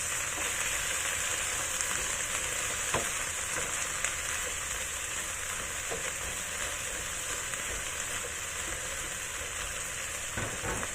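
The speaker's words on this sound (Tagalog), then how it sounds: "Ilagay ko na rin yung okra. I-fry lang natin sandali bago natin ilagay yung sauce." Okra fries in a pan with a steady, soft sizzle and occasional crackles and stirring clicks, no voices over it.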